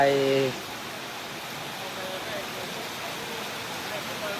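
Rain falls outdoors before a live mor lam stage show, a steady, even hiss that fills the whole stretch, with a short tonal sound at the very start and no voices.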